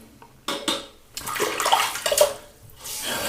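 A tap runs in short gushes as a razor and face are rinsed after a shave, splashing and trickling with brief pauses between bursts of flowing water at close range.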